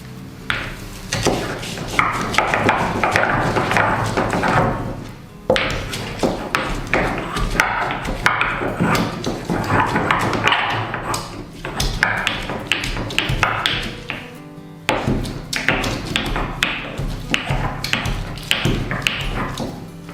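Repeated pounding of ginger and garlic in a mortar, a steady run of close, solid knocks and taps that pauses briefly a couple of times before resuming.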